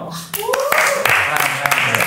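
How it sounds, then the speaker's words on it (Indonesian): A short burst of hand clapping from a few people mixes with lively talking and voices nearby. "Tepuk tangan dong."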